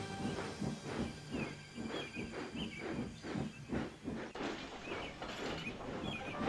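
Steam hissing from a steam locomotive in a Sodor railway setting, a steady loud broadband hiss with rhythmic chuffing pulses running throughout, no voices.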